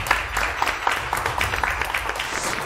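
An audience at a televised Turkish word-game show applauds in a steady, dense patter of many hands, moderately loud and continuous throughout.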